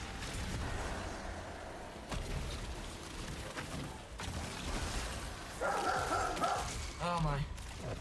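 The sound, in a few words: dog barking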